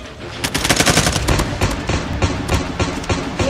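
Rapid automatic gunfire in Call of Duty Mobile, loud and close, firing in quick repeated bursts that carry on for the whole stretch with little pause.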